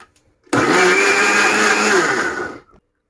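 A kitchen blender whirs through a banana milkshake made with milk and red sharbat, switching on abruptly and running loud and steady for about two seconds before winding down to silence.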